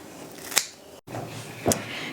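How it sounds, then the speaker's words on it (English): Clean kitchen scissors snip through indoor-grown salad greens, two crisp close cuts about a second apart over a faint background hiss, with no talking. "take a pair of clean kitchen scissors and just start cutting around, all the way around in a circle"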